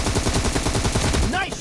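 Rapid automatic gunfire in the mobile shooter PUBG Mobile during a team deathmatch, a dense continuous burst of loud, closely spaced shots filling the whole moment with no pauses.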